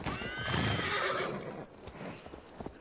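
A horse in the Assassin's Creed Valhalla game gives a loud, close whinny, then hooves clip-clop in a few scattered steps as it moves off.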